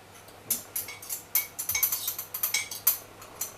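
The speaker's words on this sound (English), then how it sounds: "This guy's beating some eggs" Eggs beaten in a bowl for a pumpkin pie, giving a run of quick, close utensil clinks and taps against the bowl in an uneven rhythm, with no talking.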